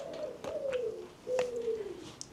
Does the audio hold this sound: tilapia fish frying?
no